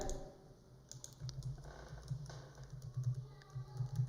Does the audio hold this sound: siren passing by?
no